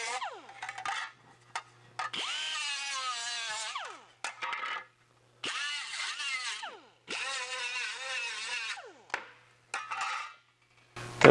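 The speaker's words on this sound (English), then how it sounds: "That was just a minute or so of grinding" An angle grinder runs against a metal panel at the bench to knock off high points, giving loud whining bursts that repeatedly start, sweep in pitch and stop, with quiet gaps in between.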